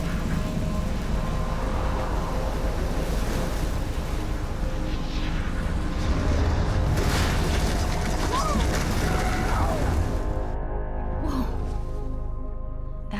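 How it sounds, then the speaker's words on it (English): A huge waterspout in the video game Life Is Strange sends out a loud, steady, roaring rumble that continues unbroken for the whole stretch, dense and close. "There's a big water spout."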